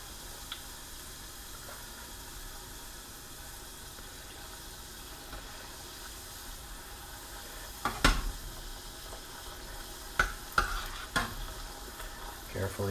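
Crab rangoon frying in hot oil, a steady quiet bubbling sizzle that grows busier near the end with a few sharp crackles and utensil clicks.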